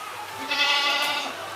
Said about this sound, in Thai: แกะอยู่ข้างใน